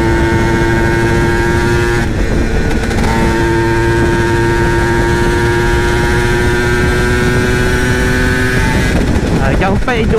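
Yamaha TZM two-stroke motorcycle riding in fourth gear through town with its power valve held open, engine droning at a steady, sustained pitch close by, with a brief wind buffet partway through and a shift in tone near the end.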